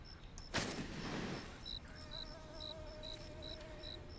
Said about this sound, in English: I don't like the mosquito sounds